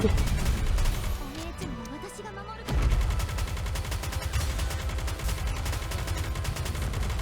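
Rapid video game gunfire in dense, overlapping bursts that briefly pause, then return as a loud, steady barrage mixed with game sound and a talking voice.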